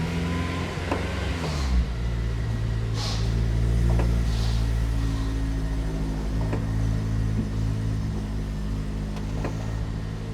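A 2008 Honda Civic Si FA5 race car engine idles and pulls away nearby, a steady low rumble with a few light revs and a rise in drone as it moves off, no talking.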